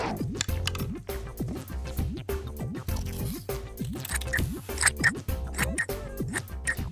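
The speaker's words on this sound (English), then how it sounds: "Now we need to cut this shape out, but be careful because scissors are sharp." Scissors snip steadily through paper, a rapid series of close, crisp cuts with short pauses, over a quiet room hum.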